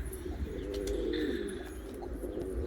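A young pigeon coos in a soft, low, wavering run, close by and alone, with faint chirps in the background.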